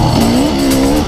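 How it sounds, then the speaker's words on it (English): A dirt bike with a 22-tooth rear sprocket spins its rear wheel on an enduro hill climb, giving a loud, close, continuous high engine whine with a rising, slightly wavering pitch through one short burst. "he's bloody wheel spinning everywhere on the hill climbs"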